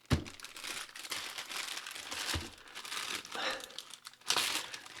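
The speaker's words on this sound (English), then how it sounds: "there's some more foam peanuts, but let's get rid of the box" Foam packing peanuts and a cardboard box rustle and crinkle loudly up close during unpacking, in uneven bursts with a sharper scrape near the end.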